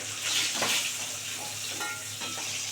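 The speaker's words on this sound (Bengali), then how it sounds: "কড়া করে ভেজে নিয়েছি বুঝলেন" Pieces of fish sizzle steadily in hot oil for a Bengali tel-jhal, with a few stirring scrapes rising and falling over a continuous, close frying hiss.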